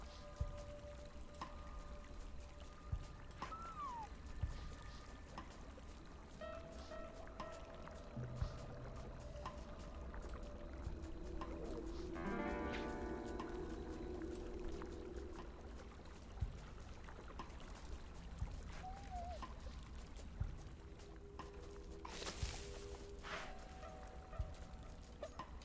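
A river flows in the game Shelter: a steady, fairly loud wash of running water fills the whole stretch, with splashy bursts and small animal-like chirps and calls scattered over it, no talk.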